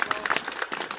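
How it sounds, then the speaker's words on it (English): Applause breaks out from an audience at a 2020 event as a speaker is introduced, a brief burst of clapping with scattered cheers, moderately loud and close. "round of applause for Paul Romero, everybody, please"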